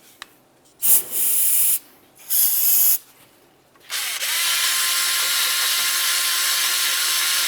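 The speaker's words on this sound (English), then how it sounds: "Next, we'll continue on with some parts cleaner and a bore brush." Parts cleaner sprays onto the rear parking brake shoe hardware of a 2000-2006 Chevrolet Tahoe: two short hissing bursts, then a long, steady, loud spray that runs to the end.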